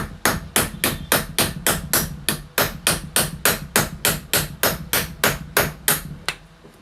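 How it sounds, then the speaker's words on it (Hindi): A hammer strikes a chisel cutting through a rusted nut bolt, with about twenty evenly spaced, loud metallic blows in a steady rhythm that slow and fade at the end. "ये छेनी से ही हमारा ये कट गया।"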